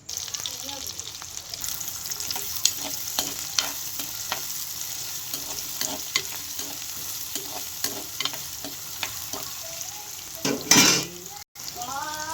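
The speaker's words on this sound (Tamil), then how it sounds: "ஒரு பாத்திரம் சூடானதும் எண்ணெய் ஊற்றி எண்ணெய் காஞ்சதும் கட் பண்ணி வச்சிருக்க பெரிய வெங்காயம் சேர்த்துக்குவோம்" Onions sizzle and crackle steadily in hot oil for an egg stir-fry, with occasional stirring scrapes and a brief louder clatter near the end.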